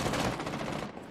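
Rapid automatic gunfire from the video game Valorant, a dense burst of loud, fast repeated shots filling the moment without pause, close and harsh.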